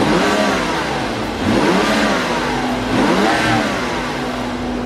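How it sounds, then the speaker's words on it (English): BMW F10 535i engine fitted with an aFe cold air intake revving hard nearby, rising and falling in two swells over a sustained loud mechanical roar, with an intake whoosh and no talking. "these AFE intakes, when they suck in, they kind of make like a whirl noise"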